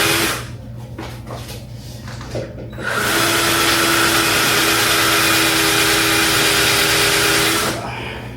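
A power drill whines loudly and steadily for several seconds driving a screw, after a few clicks and knocks, then cuts off abruptly.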